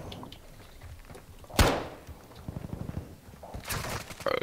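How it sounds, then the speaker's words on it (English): A grenade goes off in Call of Duty: Modern Warfare II, one sharp close blast followed by scattered gunfire and rattling bursts in an online match. "I'm throwing a fucking grenade!"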